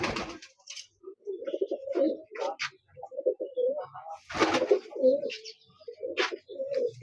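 Teddy pigeons coo in a series of soft, close, rolling calls with brief pauses between them, plus a few faint rustles and flutters.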